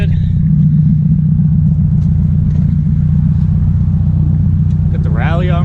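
Modified 500+ HP 2004 Subaru STI engine idling smoothly, a steady loud low rumble that runs throughout, with someone talking over it.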